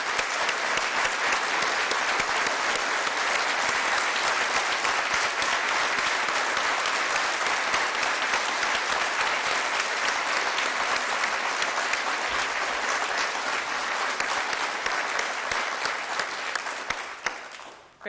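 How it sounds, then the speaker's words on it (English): A large audience at a city's State of the City address in Columbus applauds department heads in a long, steady, dense round of clapping that holds at full strength for about seventeen seconds before cutting off. "join me in an enthusiastic round of applause and appreciation"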